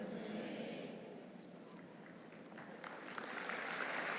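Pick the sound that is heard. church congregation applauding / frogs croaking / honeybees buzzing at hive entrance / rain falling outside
church congregation applauding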